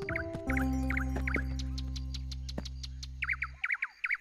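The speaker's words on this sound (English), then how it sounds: "What lovely bird song." Cartoon birds chirp in quick repeated twittering phrases over a steady sustained tone in a children's Christmas special, the chirps continuing alone and more clearly once the tone stops.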